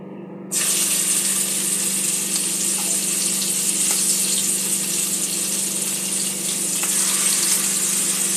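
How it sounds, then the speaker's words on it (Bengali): Boal fish frying in hot mustard oil in a wok over a low gas flame, a loud steady sizzle that bursts in suddenly and holds without pause, with a few faint crackles and no talk. "তেলটা গরম হয়ে গেছে। মাছগুলো এক এক করে ভেজে নেব।"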